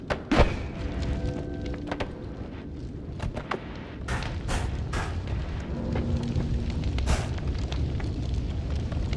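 Bomb explosions in the game Noita: a sharp boom early on, then several crackling blasts and a rumbling, fiery wash of debris that continues steadily afterward.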